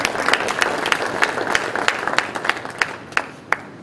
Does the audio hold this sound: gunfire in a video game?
no